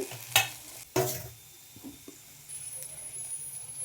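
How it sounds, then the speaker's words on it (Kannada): Ladies finger (okra) curry fries in a pan, with two sharp scraping stirs early on followed by a quieter, steady sizzle. "ಚೆನ್ನಾಗಿ ಫ್ರೈ ಮಾಡ್ಕೊಳ್ಳಿ"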